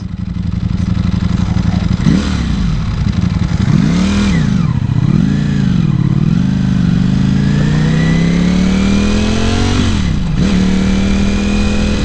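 A 2018 Ducati Panigale V4 sport motorcycle engine roars close by, revving up and down several times before settling into a steady rising drone as it accelerates.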